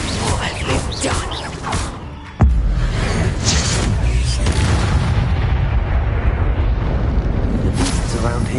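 A Confringo fire spell detonates in Hogwarts Legacy, a sudden loud booming blast partway through that gives way to a sustained roaring, crackling rumble after busy game sounds.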